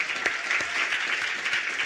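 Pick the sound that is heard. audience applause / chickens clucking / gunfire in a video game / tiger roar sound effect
audience applause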